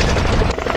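Helicopter rotor noise in the video game Call of Duty: Modern Warfare (2019) fills the scene, a dense, loud roaring churn with rapid thumping texture.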